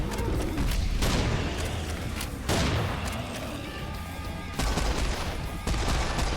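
Gunfire and booms from the Serious Sam Siberian Mayhem shooter fill the mix, with several sharp loud shots at irregular intervals over dense mechanical game noise and a roaring backdrop; no clear talk.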